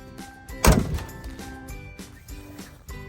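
An old pickup truck door slams shut with a single solid thunk and a brief metallic rattle.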